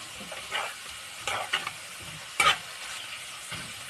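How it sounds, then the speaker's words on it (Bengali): Onions frying in a pan for a duck curry, a quiet sizzle broken by several scraping stirs and one louder clink of a spatula, no one speaking. "আমাদের পেঁয়াজটা ভাজা ভাজা হয়ে গেছে।"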